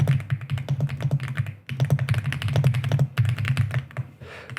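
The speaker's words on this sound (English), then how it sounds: "It's the first keyboard I have that's hot swappable." Fast, close typing on a hot-swappable mechanical computer keyboard gives a dense run of crisp keystrokes with a deep thock under each. The typing pauses briefly twice.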